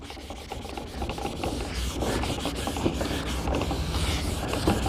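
Foggy car headlight being wet sanded with steady, gritty rubbing strokes, close and continuous throughout.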